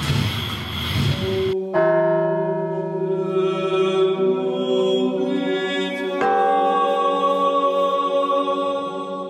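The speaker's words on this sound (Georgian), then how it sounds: "ზარის ხმა ბერებს ლოცვაზე უხმობს." A monastery church bell in Georgia rings for prayer: after a short burst of noise, a sustained resonant metallic tone with rich overtones hangs in the air, and a second strike renews the ringing partway through.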